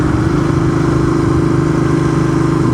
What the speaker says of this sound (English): if you hear my engine and my voice vibrating, it's because these roads are not smooth